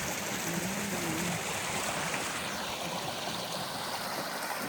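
A strong creek flows behind a house, a steady, dense rush of water that continues without a break, with a faint tonal sound briefly near the start.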